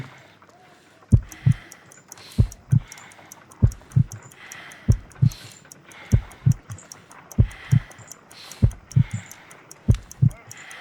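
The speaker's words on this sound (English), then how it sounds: "I need to concentrate and count the heartbeats." A slow, steady heartbeat during pulse counting in the Sherlock Holmes: Crimes & Punishments video game, with paired thumping beats repeating about ten times, close and prominent over a faint ambient hum.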